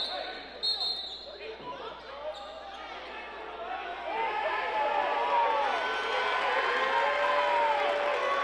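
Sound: Lancers fans cheering at high school basketball game

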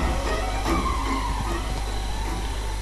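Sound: car driving in Friday the 13th video game

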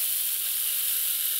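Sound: rain stick making rain sounds

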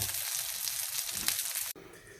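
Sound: meatballs sizzling while frying

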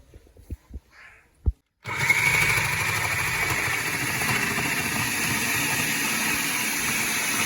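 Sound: machine grating carrots

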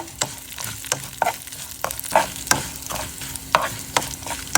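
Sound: tempering sizzling in pan with dried red chillies

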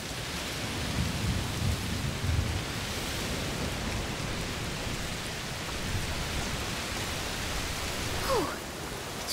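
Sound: thunderstorm in the video game A Plague Tale: Requiem

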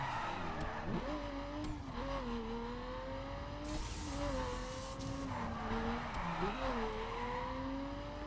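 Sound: car driving and skidding in The Crew video game

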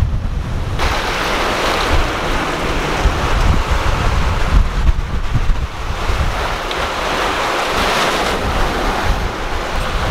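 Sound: strong wind and choppy sea on a sailing crossing

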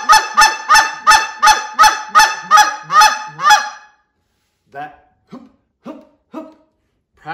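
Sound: goose call imitating geese

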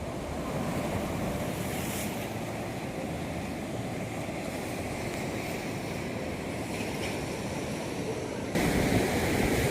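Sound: sea waves around a sea fort

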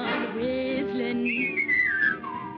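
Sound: whistling

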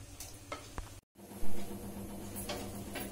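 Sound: mutton marinade sizzling in hot oil in a pan

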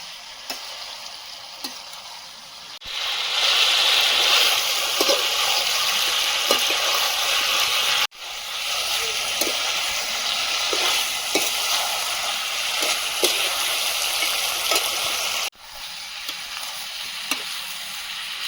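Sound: stirring chicken with capsicum and potato, then adding water

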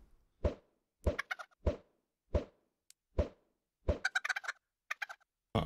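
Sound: chickens in Minecraft video game

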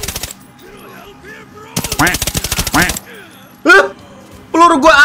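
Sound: gunfire from an M4A1 in a shooting video game

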